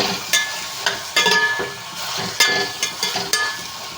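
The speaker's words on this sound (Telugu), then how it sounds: "ఉల్లిపాయని ఫ్రై చేసుకోవాలండి" Onions sizzle in a hot pan with a soft continuous fry, broken by sharp scraping clicks of a spatula stirring at an uneven pace, close and without talk.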